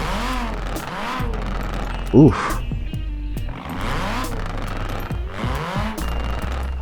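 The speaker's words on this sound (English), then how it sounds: "I love that pop from the exhaust." A Nissan Pulsar GTI-R revs up through rising and falling engine sweeps in Forza Horizon 4, with a sharp exhaust pop midway and a man briefly exclaiming over the close, loud engine.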